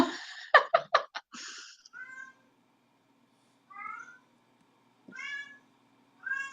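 A cat meows repeatedly, several drawn-out meows spaced a second or two apart after a burst of louder sounds at the start. The meows are clear and fairly close.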